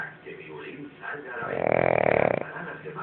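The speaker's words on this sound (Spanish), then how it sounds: "ronquidos de placer" A dozing dog lets out soft snuffling breaths, then one long, rattling snore up close, fluttering rapidly before trailing off into quiet breathing.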